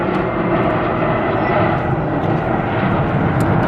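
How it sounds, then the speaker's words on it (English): An airplane passes overhead outdoors, a loud, broad, steady roar that fills the scene without a break. "Hold on, there's a plane."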